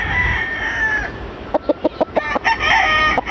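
Backyard gamecock rooster crowing outdoors, with a short burst of rapid clucking or pecking notes in the middle; fairly close and clear, no talk.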